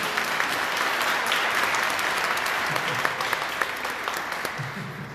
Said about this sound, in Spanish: Fuerte aplauso.